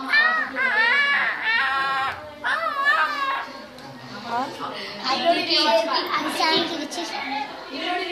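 A voice imitates a baby elephant with a run of high, shrill trumpeting squeals, loud and close, broken into bursts across the clip.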